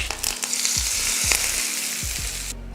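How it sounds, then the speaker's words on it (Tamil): A hot tempering of mustard seeds, urad dal, dried red chilli and curry leaves in oil is poured into coconut chutney, giving a loud crackling sizzle that hisses steadily for a few seconds before cutting off abruptly. "இப்போ இதை சட்னியில் ஊற்றிடலாம்."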